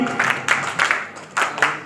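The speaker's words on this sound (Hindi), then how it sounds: "बजाते रहियो, देखो ताली में कितनी दम है" An audience claps along in time at a Braj folk music performance in Mathura, the bursts of clapping rising and falling in a loose rhythm while a voice sings or talks over them.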